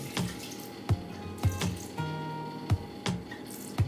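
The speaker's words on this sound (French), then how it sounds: "je rajoute 100 g de lait" Milk is poured into a mixing bowl while making a savory batter, a liquid stream splashing and gurgling, broken by several sharp knocks and clinks of containers, close and alone.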